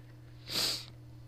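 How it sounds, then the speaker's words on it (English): A single short, breathy sniff, close and soft, over a low steady hum. "excuse all the sniffling"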